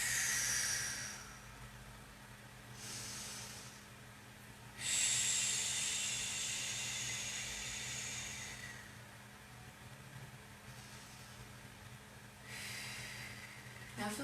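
Slow, deep breaths during a seated restorative yoga session, each long airy inhale and exhale rising and fading in turn, soft and close over a quiet low hum, with no talking.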